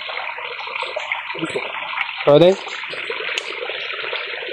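Spring water splashing and trickling steadily into a container on a hillside path in Nepal, heard close, while people talk briefly over the running water.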